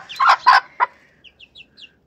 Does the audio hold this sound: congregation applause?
no